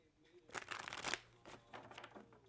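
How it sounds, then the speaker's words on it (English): A deck of tarot cards is shuffled close up: a few quick papery riffles and flutters in short bursts, with a soft low hum underneath. "One more shuffle."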